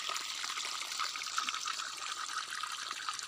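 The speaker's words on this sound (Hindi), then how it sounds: "तो अच्छा पंप है, देख लीजिए अभी चल रहा है।" Water gushing steadily from the outlet of a running 0.5 HP pump irrigating a field, a continuous close hiss and splash with no pauses and no talk.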